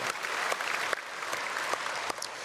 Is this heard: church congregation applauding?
yes